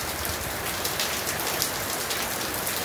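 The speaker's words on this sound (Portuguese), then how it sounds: "4h40 da manhã, muita chuva na cidade de Baraúna." Heavy rain pours before dawn in a town in Brazil's Northeast, a dense, steady hiss of drops drumming on surfaces that stays even and loud throughout, with no voices.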